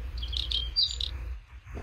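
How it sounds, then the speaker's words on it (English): Short synthetic bird chirps from a cell phone ringtone, a few bright high trills in quick succession, moderately close over a low background hum, with no talking. "I hear a bird, Franco."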